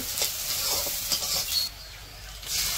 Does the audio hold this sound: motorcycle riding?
no